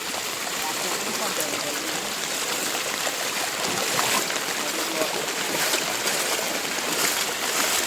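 Floodwater after heavy rain rushes steadily through the lanes of Malu village, a continuous broad wash of flowing water with no break across the whole span.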